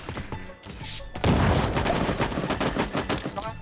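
Explosions and gunfire in an online shooter video game: a quieter opening with a distant pop, then a loud blast at about one second followed by sustained, rapid bursts of weapon fire continuing to the end.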